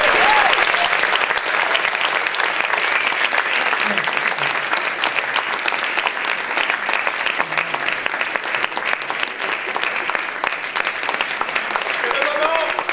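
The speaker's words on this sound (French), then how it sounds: "Je vais applaudir pour Rim" An audience gives sustained, dense applause after a slam poetry performance. Steady close clapping lasts the whole stretch, with faint voices underneath.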